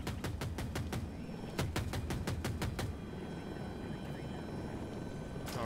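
A Little Bird helicopter flies by in Battlefield 2042 with a rhythmic thudding of rotor blades over a steady engine rumble, fading into a continuous drone.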